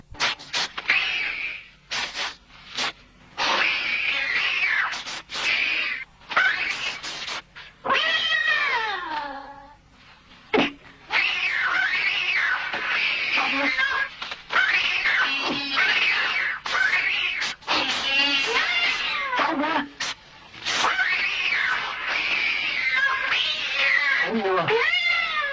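Cats meow and caterwaul loudly and almost without pause, with long wavering yowls and howls, some scraping and rustling between the cries.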